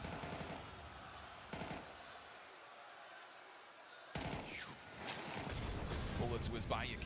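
Gunfire during a competitive Counter-Strike esports match, bursts of rapid shots and whizzing bullets mixed with a caster's voice talking over it, a quieter stretch before a sudden loud volley.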